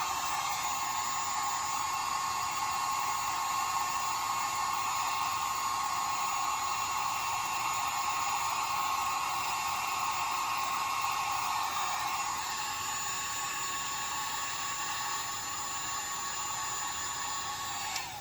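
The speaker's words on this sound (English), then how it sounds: "careful your fingers near the heat gun, because this does get a few hundred degrees." A heat gun blows steadily at close range while shrinking heat shrink tubing onto a repaired heated vest battery cable, a constant high-pitched whine and rush of air that drops slightly in pitch partway through, with no talking.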